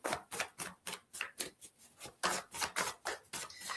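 Quick, rhythmic riffling bursts of a card deck being shuffled, a dozen crisp ruffles in a row, close and clear with no talking.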